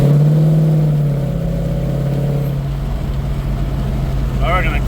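A car with a Godzilla engine swap cruises in fifth gear, its engine a loud, steady drone with a tone that falls early on, heard from inside the car.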